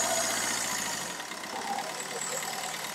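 A car engine at a used-car shop running with a steady, rough mechanical drone, loud and continuous and close by, with no speech over it.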